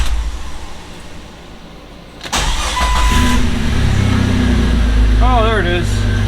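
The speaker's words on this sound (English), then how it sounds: "Are we clear to start the car?" A Jeep XJ engine cranks and catches partway through, then settles into a steady close idle, with voices talking over it before and after the start.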